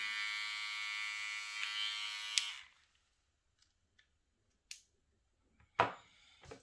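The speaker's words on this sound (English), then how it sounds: "my all-time favorite, Kemi 1973 with original wall blade. Still working." A vintage 1973 Kemei hair clipper with its original blade runs with a steady, loud electric buzz for about two and a half seconds, then cuts off, leaving near silence broken by a few faint clicks and a short handling bump.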